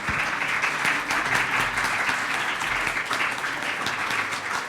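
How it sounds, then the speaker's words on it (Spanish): An audience at the end of a university seminar gives a sustained round of applause, a dense, steady patter of many hands clapping at moderate volume with no voices. "lo despedimos con un fuerte aplauso"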